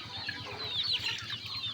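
Two brooding hens on a farm cluck softly in a steady, close rhythm, low murmuring clucks with some higher chatter from nearby fowl.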